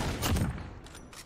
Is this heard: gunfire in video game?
yes